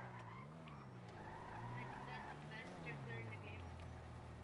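A Vapid Retinue car drifting in a video game, its engine revving and rising and falling in pitch under a steady tire squeal, fairly quiet and continuous.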